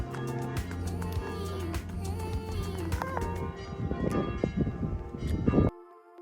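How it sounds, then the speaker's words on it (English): Church wedding bells ring out in Santorini, a steady series of bright, resonant strikes with lingering tones, fairly close and clear, fading away near the end with some faint background noise. "the wedding bells have just started"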